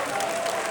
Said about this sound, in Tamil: ஓகே, எல்லாரும் ரெடிங்கிறதுக்கு ஃபர்ஸ்ட் ஒரு பெரிய கைத்தட்டல் கொடுங்க தமிழ் பள்ளி ஆசிரியர்களுக்கு